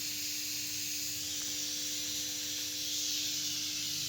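Steady, loud hissing of steam from a home pressure cooker whistle in a kitchen where khichdi, dal palak and besan are cooking, a continuous jet that swells slightly near the end with no talk.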